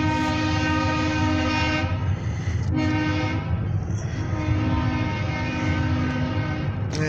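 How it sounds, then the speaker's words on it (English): A loud, sustained OC&T freight train horn blares in long chords, with brief breaks between blasts over the steady rumble of the passing grain hopper train near Titusville. "Let's wait and hear the horn"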